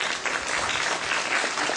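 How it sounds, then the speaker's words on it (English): An audience at a foundation presentation applauds a speaker, giving a sustained, dense round of clapping from many hands that stays steady and fairly loud throughout. "may I have a round of applause for Dr. Schildt?"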